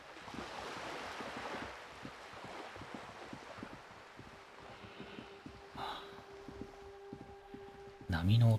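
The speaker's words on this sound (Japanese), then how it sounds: "波の音はいいな。" Ocean waves in the video game Disco Elysium wash softly and continuously under gusty wind, with faint ambient game tones and a brief louder thump near the end.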